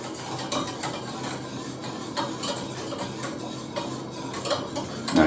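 Spoon scraping and clinking steadily in a pan while a cheese soufflé sauce simmers and thickens, a continuous close rhythm of light metallic ticks and stirring swishes with no voices.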